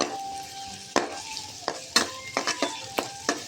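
Two garlic cloves sautéing in oil in a pan for a chicken kulambu: a soft steady sizzle broken by several sharp scraping stirs, close by, with no talking.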